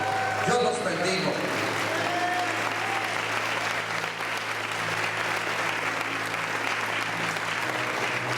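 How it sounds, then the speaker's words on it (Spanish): A church congregation at a house-church congress applauds loudly and continuously, dense clapping filling the room throughout, with voices speaking and calling out over it. "Denles un aplauso fuerte."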